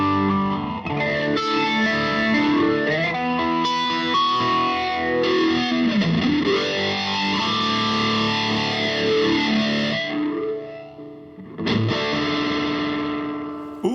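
Distorted electric guitar chords ring out with a swirling, sweeping phaser effect that rises and falls steadily throughout, briefly cutting out near the end.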